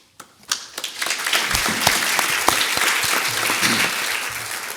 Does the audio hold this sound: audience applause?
yes